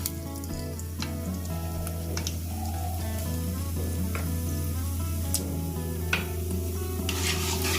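Whole spices such as dried red chilli, cloves, cardamom, cinnamon and bay leaf sizzle steadily in hot oil for tempering, with a continuous close frying hiss and occasional scrapes and clinks of stirring in the pan.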